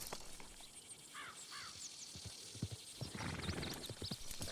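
Horse hooves clop and a horse whinnies in Red Dead Redemption 2, with scattered hoof thuds and two short neighs over faint background ambience and distant bird calls.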